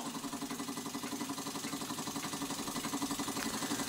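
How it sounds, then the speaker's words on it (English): A scratch-built model steam engine with its frame mounted on the boiler runs steadily, giving a continuous rapid chuffing and mechanical beat at an even rhythm, loud and close, with no talk over it. "It's just such an unusual engine."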